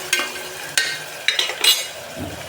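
Chopped tomato tipped into a hot frying pan for khichdi, with a few sharp scrapes and clatters of a spoon against the pan and a faint sizzle in between, close and fairly quiet.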